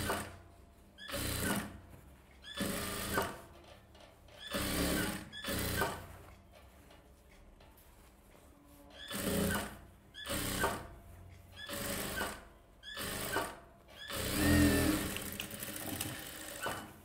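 Sewing machine stitching a silk sleeve onto a one-year-old baby's dress, running in repeated short bursts of fast whirring with brief pauses between.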